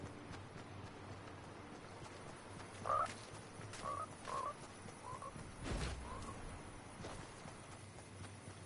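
Frogs croak in the video game Fortnite: a few short, faint croaks spaced over a quiet ambient background, with nobody talking.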